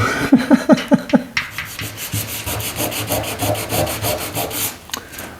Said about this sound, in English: I'm just sanding all over and breaking the edges a little bit to make it look more weathered